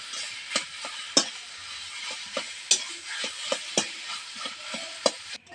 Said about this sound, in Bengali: দিয়ে এই মশলার সঙ্গে ভালো করে আলুটাকে কষিয়ে নেব